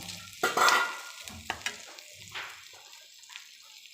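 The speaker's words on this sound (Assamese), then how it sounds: "ফ্ৰাই হৈছে পিঁয়াজখিনি।" Onions frying in a pan: a close hiss and sizzle that swells and fades in short bursts as they are stirred, with faint scraping and no talking.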